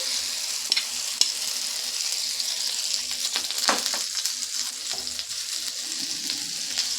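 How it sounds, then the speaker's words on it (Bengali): Oil sizzling softly in a saucepan over a low flame as a utensil stirs it around the pan, with steady frying hiss and occasional scraping clicks, no talking. "তেলটা দিয়ে ভালো করে চতুর্দিকে নেড়ে নেব সসপ্যানটার"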